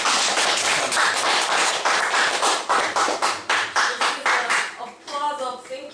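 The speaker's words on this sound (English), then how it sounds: "박수를 좀 드리고요" An audience at a book-launch lecture claps after the talk, starting as dense applause and thinning into fewer, distinct separate claps toward the end, with a brief voice at the close.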